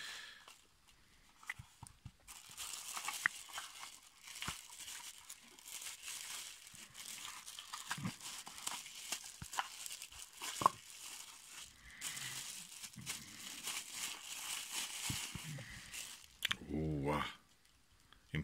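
Crinkling and rustling of packaging as a Takahashi LE 7.5mm telescope eyepiece box is unpacked, intermittent close handling noises, with someone talking at times.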